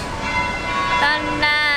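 Church bells ring for a wedding in Japan, a steady layered peal of overlapping tones with fresh strikes swelling in partway through, loud and continuous throughout.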